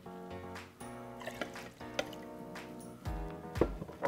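A cup of gin poured into a punch of sweet-tart fresh juice, a quiet liquid trickle with drips and small splashes over a few seconds, alongside faint kitchen clatter and no talking.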